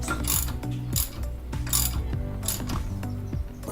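A hand ratchet tightens a 21 mm bolt on a V8-swapped Pontiac Fiero, with repeated close clicking strokes in a regular rhythm, each pull a quick burst of pawl clicks.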